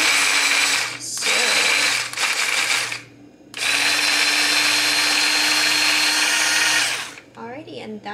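A button-operated electric kitchen chopper dices food, its motor whirring loud and close in two long bursts separated by brief pauses, then cutting off.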